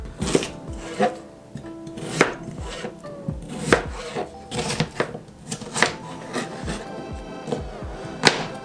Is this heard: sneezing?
no